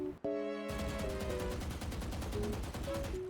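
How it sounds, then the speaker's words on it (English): Repeated gunfire from a Valorant weapon fired while standing still, a steady rapid burst of evenly spaced shots running the length of the clip after a brief tonal game sound at the start. "when shooting regularly without moving, your bullets will go like this"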